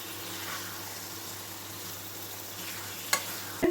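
Fish frying in a pan, gently turned from side to side: a steady, quiet sizzle throughout, with a couple of brief utensil knocks near the end.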